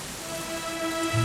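Rain falls steadily in the video game Dragon Quest 11, a dense even hiss of droplets on surfaces with a faint low rumble and a soft tonal hum beneath.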